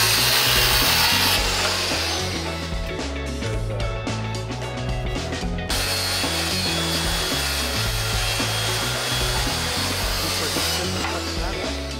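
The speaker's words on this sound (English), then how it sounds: "So we're gonna sand our boards." Pressure-treated lumber boards for a step are sanded with a power tool, a loud, continuous rough whir and grinding that runs steadily throughout.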